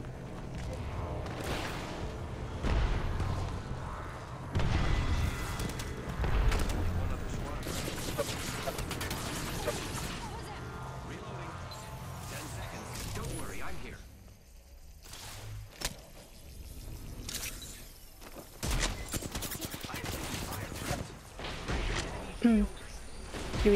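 Gunfire in Apex Legends, with bursts of rapid shots, mechanical clatter and impacts from a chaotic fight, loud and dense at times, mixed with game effects and a voice talking over parts of it.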